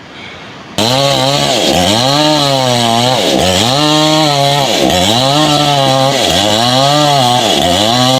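A loud chainsaw engine revs up and down steadily in repeated surges as it cuts, droning continuously close by.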